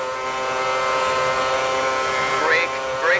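An F1 2010 video game car held on the pit speed limiter at Monaco after a collision gives a steady, loud, buzzing engine drone at constant pitch, with brief chirps near the end.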